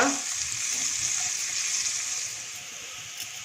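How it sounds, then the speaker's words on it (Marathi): Onion fries over a medium flame after mustard seeds have popped, a soft, steady sizzle that is close but quiet. It tapers slightly near the end, with no talk. "कांदा गॅसची फ्लेम मीडियम ठेवून कांदा सोनेरी रंगावर परतून घेऊया"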